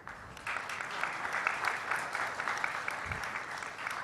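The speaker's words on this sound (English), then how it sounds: "a huge and louder round of applause from all of you" Audience applause at a stroke symposium at Yatharth Hospital in Greater Noida. It rises after half a second into a steady, dense clapping from a large crowd and holds at an even level for several seconds.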